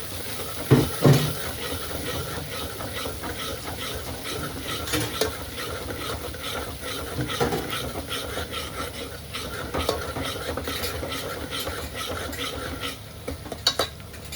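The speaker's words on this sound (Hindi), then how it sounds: "चलो जी अब करते हैं इसकी अच्छे से भुनाई" Rajma masala gravy being stirred and roasted in a pot, with a spoon scraping and clinking against metal over a constant sizzle, occasional louder knocks, no talking.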